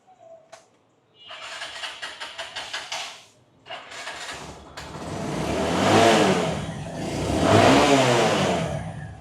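A Bajaj Discover 135 motorcycle cranks with a quick run of starter pulses, stalls, then fires and settles into loud, close revving that swells twice to strong peaks.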